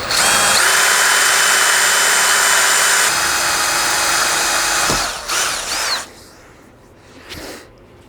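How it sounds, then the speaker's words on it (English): A drill bit bores a hole on a combination mill-lathe with cutting fluid, giving a loud, steady high whine that holds for several seconds, then cuts out and fades into quieter clanks. "I started with a slightly smaller diameter drill bit than what I suspect it's going to be"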